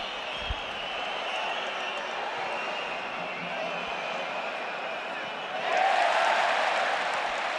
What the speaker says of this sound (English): Another huge cheer as Gerard Martin wins another tackle.